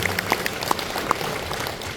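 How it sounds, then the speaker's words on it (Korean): Audience applause from a seated crowd at a lecture by an economics professor, a steady patter of many hands clapping, moderately loud and fairly close, with no talking over it. "박수 한번 주십시오, 여러분."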